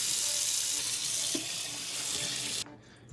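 Tap water runs steadily into a sink while the inside of a cleaned freshwater drum fish is rinsed, a close continuous splashing rush that cuts off abruptly near the end.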